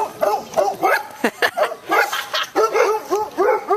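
A dog barks and yips repeatedly at close range, a quick irregular series of sharp, fairly loud barks with brief whimper-like tones between them.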